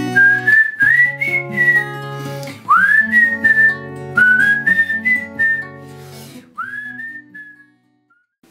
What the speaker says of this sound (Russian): Дальше идет свисточек, если сможете просвистеть.